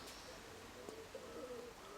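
Combat-breed pigeons coo softly outdoors, a few faint, low throaty calls near the middle of a quiet stretch, heard alone without talk.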